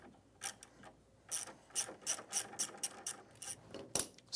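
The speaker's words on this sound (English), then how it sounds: "Taking a 5/16 socket, we're going to remove our hardware." Ratchet with a 5/16 socket loosening hardware on an ATLAS PRO Walker transfer roller, a series of quick clicking pawl bursts in short uneven strokes, close and fairly quiet.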